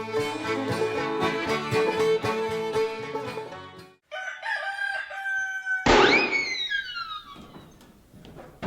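On a farm, a rooster crows loudly in a long drawn-out call, then a sharp gunshot cuts in, followed by descending whistling tones.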